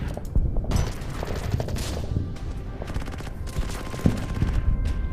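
Rapid volleys of gunfire and booms ring out in a World War II strategy game set on Guam, an anti-tank gun among them, as close, loud bursts with a sharp shot near the four-second mark and no speech over them.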